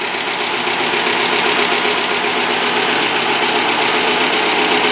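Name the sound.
Dodge Challenger Shaker engine idling with ticking noise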